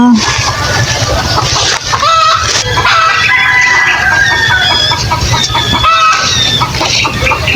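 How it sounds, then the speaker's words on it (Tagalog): Farm chickens clucking and squawking at close range in a rural provincial yard, continuous busy calls with occasional sharper cries, under ongoing speech and background noise. "Nagpuput-put-put-putak yung mga manok."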